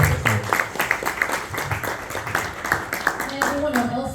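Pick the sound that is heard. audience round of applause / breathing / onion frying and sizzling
audience round of applause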